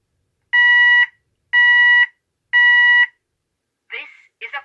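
A Klaxon Nexus 110 sounder sounds its fire alarm tone: three loud, evenly spaced electronic beeps, each about half a second, followed by the start of a spoken announcement.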